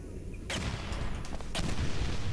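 Gunfire in the video game Portal 2 shoots at the player, sharp bursts of loud shots cracking at about half a second and again around one and a half seconds over a steady noisy rumble.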